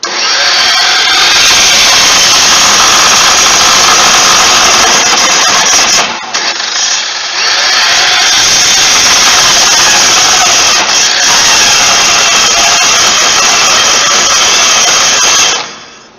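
A power saw cuts steel stock for a T-bucket hot rod frame in a workshop, a loud, continuous grinding whine running for about six seconds, pausing briefly, then resuming steadily before cutting off near the end.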